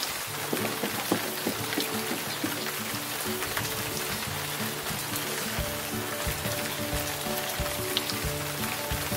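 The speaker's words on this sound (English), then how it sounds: "Well, it's raining." Steady rain patters on surfaces in California, a dense even hiss with scattered drips, while a low tonal hum or music runs underneath throughout.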